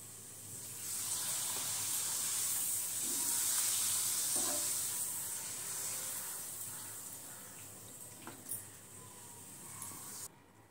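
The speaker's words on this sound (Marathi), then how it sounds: "त्याबरोबर आपण पापड तळून घेऊ" Papad frying in a pan of hot oil, a steady bright sizzle and hiss holding at moderate level for about ten seconds with small bubbling spits, no talking.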